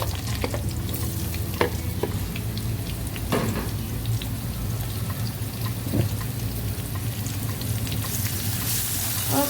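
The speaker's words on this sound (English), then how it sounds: "this is when I'm gonna add the mushrooms in" Mushrooms added to slightly browned garlic in a pan fry with a steady close sizzle, broken by occasional stirring clatters and scrapes, with no talking.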